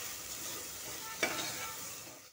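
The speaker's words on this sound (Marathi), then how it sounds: "छान असं परतून घ्यायचं." Ground masala paste with turmeric and red chili powder sautés in a pan, giving a steady close sizzle with one brief scrape of stirring.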